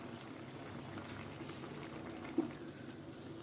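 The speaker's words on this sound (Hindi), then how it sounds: "उबाला आना शुरू हो गया है," Mixed vegetable curry coming to a boil in a pan, giving a steady, faint bubbling simmer throughout with one small pop near the end and no voices.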